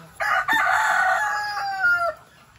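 A loud, agitated chorus of ducks, turkeys and geese, honking and squawking together for about two seconds, close by and overlapping.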